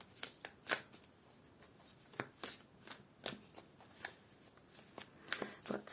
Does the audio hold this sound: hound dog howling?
no